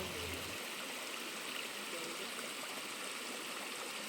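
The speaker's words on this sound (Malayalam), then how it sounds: "അരുവിയുടെ ശബ്ദവും ചെറിയ കാറ്റും" Steady broadband rush of a stream flowing near hillside caves on a monsoon trek, continuous and fairly close, with a faint breeze mixed in and a brief low rumble at the start.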